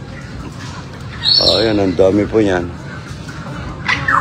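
Farm birds give a few short, close calls in quick succession on an outdoor farm, heard over someone talking nearby and steady background noise.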